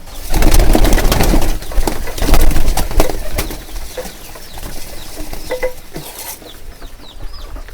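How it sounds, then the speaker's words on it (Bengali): Pigeons coo and rustle nearby with soft fluttering and pecking sounds, a busy flock feeding together and flapping wings, with brief louder bursts early on. "দেখেন সবগুলো কবুতর একসাথে কীভাবে রকমভাবে খাবারটা খাইতে আছে"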